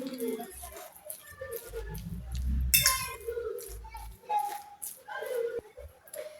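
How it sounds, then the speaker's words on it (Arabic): Spices, ginger, salt and oil stirred together in a bowl for a chicken and vegetable gratin, giving close, irregular clinks and scrapes of a utensil against the dish, with a busier stretch of mixing midway. "وهنا راح نبدا نخلط كما راكم تشوفوا."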